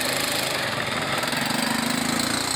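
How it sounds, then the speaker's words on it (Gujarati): An ATV quad bike idles at Madhavpur beach, its engine giving a steady, close, buzzing drone with a fast even throb and no voices. "13 નંબરની આ ગાડી છે એટીવી"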